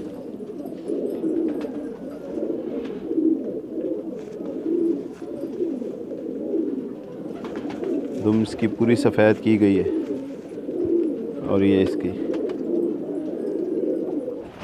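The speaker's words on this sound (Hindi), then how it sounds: "दोस्तों यहाँ पे एक चुआचिंदर डंडे मार कबूतर मौजूद है।" Pigeons of the Chuachindar Dande Mar breed coo in a loft, a low steady murmuring under someone talking nearby, with a couple of louder flutters or calls midway.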